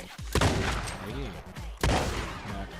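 Two loud revolver shots fired into the air in Red Dead Online crack a second and a half apart, each followed by a rumbling echo over a busy game background.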